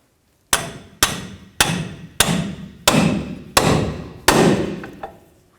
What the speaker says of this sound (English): I'm going to use a pickle fork and break that free